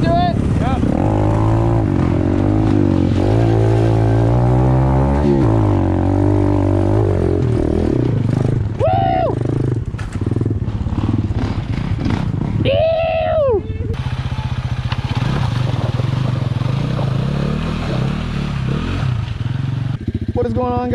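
A 2020 Apollo RFZ Chinese pit bike rides a woods trail, its engine droning and rising loud and near throughout, with people talking over it in places.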